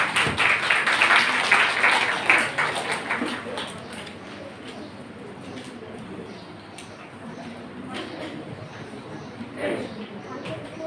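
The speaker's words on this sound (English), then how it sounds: "Please give a big clap for her." An audience claps for a speaker at an international academic event, with a burst of clapping that fades over several seconds into light scattered claps and room noise.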